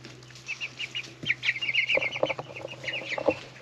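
Cornish Cross meat chickens, a flock of about 50, cluck and chirp close by in overlapping, irregular bursts, with a brief wing flap or two and a steady low hum underneath.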